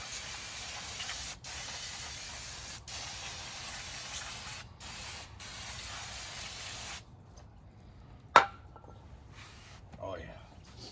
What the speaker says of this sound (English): You just want to spray the brake clean until all the stress is gone out of your life.